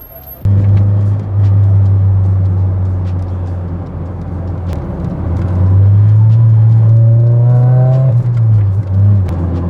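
A car drives along a Malaysian highway near Kuala Lumpur. The engine drones loud and close, then rises in a revving surge before settling again.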